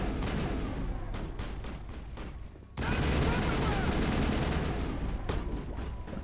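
Sustained gunfire in the video game Mass Effect, a dense rapid rattle of shots that briefly dips, then returns louder and heavier, steady and close throughout.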